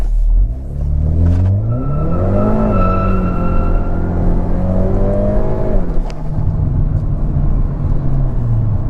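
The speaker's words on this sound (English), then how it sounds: "I feel like the engine is definitely putting down more power" Hyundai Veloster N with a DCT gearbox accelerating hard from first gear, engine note rising steadily in a loud in-cabin drone, easing off, then climbing again with a sharp shift before settling into a rumble.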